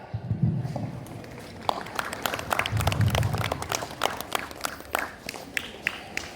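Audience applause at a school Republic Day celebration, greeting a student speaker: a steady stretch of scattered hand claps from a crowd, moderately loud and fairly close, swelling briefly in the middle before thinning out.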